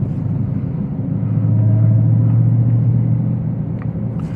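Deep, steady engine rumble from a Dodge Charger Hellcat Widebody cruising at low speed, a loud low drone that swells slightly in the middle and holds on with no talking.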